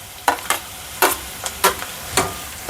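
Onions and chopped green chillies frying in a pan are stirred with a spoon, giving several distinct scraping strokes at an uneven rhythm over a low sizzle, close by.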